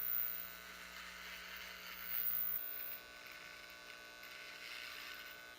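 Electric shaver trimming a long, grown-out beard, a steady low buzzing hum with faint motor whine, fairly quiet and close, shifting slightly in tone as it cuts.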